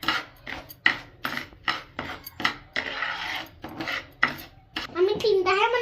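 Sugar stirred in a pan over a low flame for dalgona candy makes a steady run of rhythmic scraping strokes, close and fairly loud, with a brief voice near the end.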